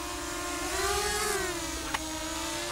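A DIY Mini-H V3 quadcopter drone's motors spin up in one continuous whining tone that rises slightly and falls back over a few seconds, close by, with a brief click near the end.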